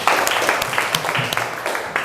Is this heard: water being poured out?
no